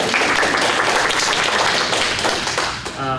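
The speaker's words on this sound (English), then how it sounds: "Round of applause for Dawnelle." An audience at an LGBTQA conference bursts into dense, close applause for a speaker, the clapping sustained and loud before tapering off at the end.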